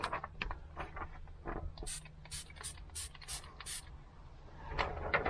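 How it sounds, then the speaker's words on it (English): A hand-pumped spray bottle mists soapy solution onto a car's infotainment screen in a run of about six quick, hissing squirts, with softer handling taps and shuffles before and after. "We're gonna spray this with some soapy solution."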